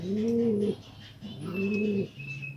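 A domestic pigeon coos twice nearby, soft rolling low calls separated by a short pause, with faint chirps in the background.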